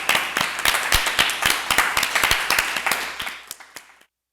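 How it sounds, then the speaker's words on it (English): A small group claps steadily for several seconds, with distinct individual claps, before the applause tapers off and stops. "Let's give him a round of applause."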